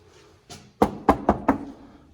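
Four firm knocks on an old wooden door inside a historic building, the first raps sharp and close, spaced about a quarter second apart after a softer bump, ringing briefly in the room.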